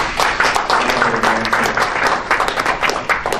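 Applause from attendees at a parliamentary human rights caucus meeting adopting a resolution in support of Liu Xiaobo, a dense, steady round of clapping from a crowd filling the room, loud and close, lasting throughout without speech.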